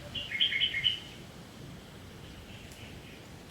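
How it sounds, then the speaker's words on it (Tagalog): A bird calls loudly in a short burst of high chirps over the first second, then fades into quiet outdoor background. "Parang ibon yata yung naririnig natin kanina."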